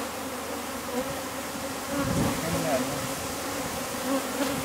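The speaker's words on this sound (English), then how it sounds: "Of course, the bees are there already." Honey bees swarm around an open beehive in Denmark, a dense steady buzzing drone that swells slightly midway, close and loud, with a faint murmur of background voices.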